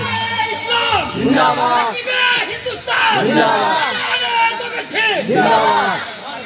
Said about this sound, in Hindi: अब नारा कब लगेगा? अब सब नारा लगेगा।